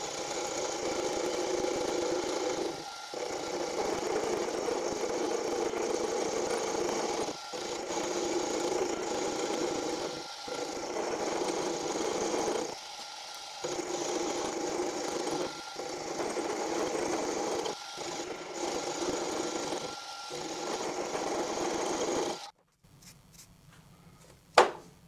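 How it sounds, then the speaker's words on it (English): A metal lathe takes a finishing cut across the face of a cast rear tool post base, humming and whirring steadily with short regular dips, then stopping near the end with a final clunk. "I'm just going to take a finishing cut just to make sure it's nice and smooth."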